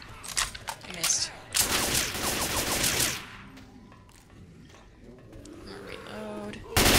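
Shotgun blasts in the zombie shooter Left 4 Dead 2, loud bursts of gunfire with chaotic game noise and a voice talking over parts of it.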